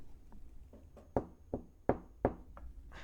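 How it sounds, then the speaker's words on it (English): Knocking on a wooden surface: four sharp raps spaced about a second apart, close and fairly loud, with faint softer taps around them and no voices. "I just knocked on wood for you because I don't want to jinx it"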